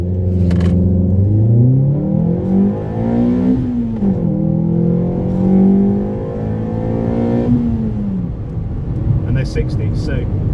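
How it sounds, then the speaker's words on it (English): A Ford Fiesta ST with a 2.0 Duratec engine, Mountune inlet manifold and remap launches hard in first gear, its engine note climbing loud and close through revs, with a brief dip and a second rise. "I'm going to drop it down and I'll do a full launch in first gear"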